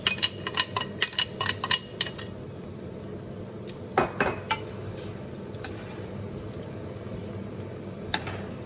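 Pans and cutlery clink sharply in a burst of quick metallic taps during the first two seconds as chicken goes back into a skillet of low carb chicken chow mein, then a few more clatters over a steady low sizzle.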